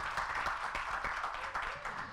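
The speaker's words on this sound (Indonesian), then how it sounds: "tepuk tangan dong buat kita semuanya" Applause from an audience at a student orientation event hosted by a faculty student council, a steady, dense crowd clapping that fills the whole moment at moderate volume with no talk over it.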